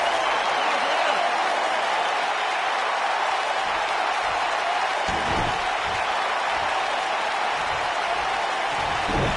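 A video game arena crowd at a Smackdown vs Raw wrestling show roars in a constant, dense wash of cheering and applause, with a few dull thuds from the ring underneath.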